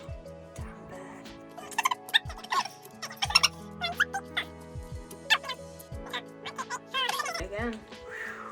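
Gobbling, turkey-like bird calls from a homemade Easter game sound in repeated short bursts, mixed in with excited voices and game play.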